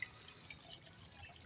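A newly found spring beside a cold creek drips and trickles faintly with soft, irregular water drops close by and no voices.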